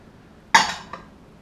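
A utensil clinks against a bowl of potatoes, jalapenos and sauce as they are mixed, one sharp clatter followed by a softer second tap, close and alone.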